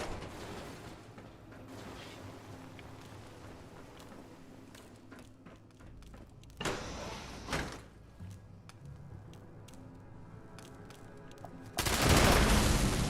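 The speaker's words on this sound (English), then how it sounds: "Definitely sounds like another automated turret somewhere." Bursts of automated turret fire in Fallout 76 come in two separate volleys, the second louder and longer, over a steady low background hum with faint scattered clicks.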